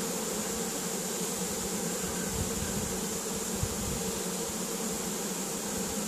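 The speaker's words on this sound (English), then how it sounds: "They're fanning in front of the hive, which is a good sign." A honeybee swarm buzzes and fans at the hive during a swarm capture, a dense, continuous drone of many wings, steady and close with no talking.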